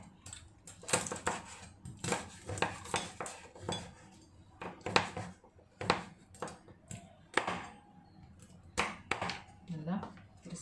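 Crispy crackers tumble into a mixing bowl while making Bicol-style dinakdakan, with a series of sharp, close clatters and clinks against the bowl. A voice talks between the bursts.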